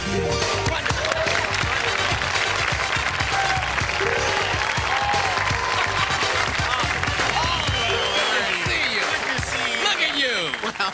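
A talk show studio audience applauds as guest Andy Richter is welcomed, a dense, steady wash of clapping filling the whole stretch at close range, with voices mingling underneath and a brief tapering at the very end.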